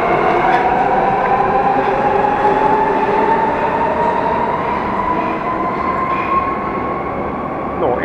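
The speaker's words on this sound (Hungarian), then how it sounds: "de sokkal csendesebb a metró" Budapest M3 metro train running through a tunnel on its oldest northern section, a loud sustained roar of wheels on rail with a rising tonal whine and occasional clicks, continuous throughout.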